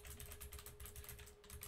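Rapid, dense computer keyboard key presses, mashed quickly in an uneven flurry, faint and close, with a steady low hum beneath.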